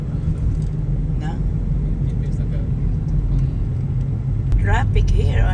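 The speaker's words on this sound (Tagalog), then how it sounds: "Traffic here on the highway." Constant low roar of busy highway traffic on Highway 400, heard from inside a car, with brief speech breaking in near the end.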